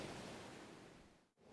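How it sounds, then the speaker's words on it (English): Soft ocean waves wash in a steady, faint hiss of surf that fades briefly near the end, with no voices. "As the waves move softly beneath the reading"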